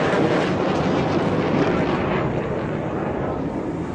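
A PAF JF-17 Thunder fighter jet performing at the Dubai air show gives a loud, steady broadband jet roar that holds throughout and fades slightly toward the end, with no voices.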